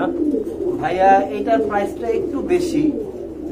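Pigeons coo softly at a pigeon farm in low, rolling murmurs, heard under close conversation between two people.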